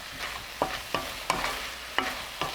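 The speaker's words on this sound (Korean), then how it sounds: "양념이 조금 남으면 마지막으로 썰어둔 파를 넣어 볶아줍니다" Eggplant and sliced green onion stir-fried in a pan with soy sauce and corn syrup seasoning over medium heat, a spatula scraping in separate, fairly evenly spaced strokes over a faint steady sizzle, with no talking.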